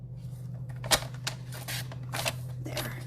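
Cardstock sliced on a paper trimmer during card making: a sharp click and a short dry slide of the blade, followed by a few softer rustles and taps against a steady low hum, with no talking.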